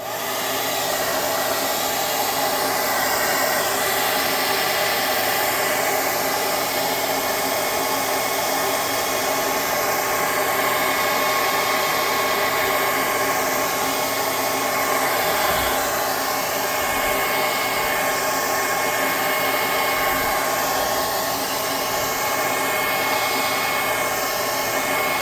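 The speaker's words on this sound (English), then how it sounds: "we're going to hit this with a hot air gun real quick" A hot air gun blows steadily and loudly for the whole stretch, a constant broadband whoosh with no pauses, used on a tabletop church model.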